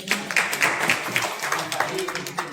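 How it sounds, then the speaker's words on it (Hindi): Group applause at a village-level Jal Shakti Mission community training programme, rhythmic claps ringing out in a steady run with a voice briefly speaking over them. "इस ग्रुप के लिए जोरदार तालियां हो जाए"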